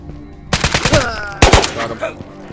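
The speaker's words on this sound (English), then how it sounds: "Who the fuck is shooting?" Gunfire in the VR shooter Ghosts of Tabor: two sharp rapid bursts of close automatic shots, the first rattling several rounds, the second a tight double crack, separated by a brief pause.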